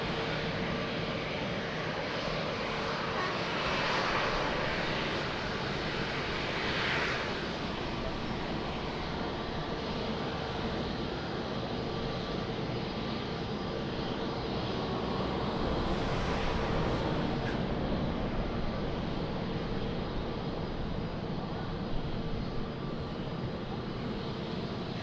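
An airplane approaches runway 02 at Lisbon Airport as a fairly faint, distant, continuous engine drone with slight swells in level, steady throughout with no voices.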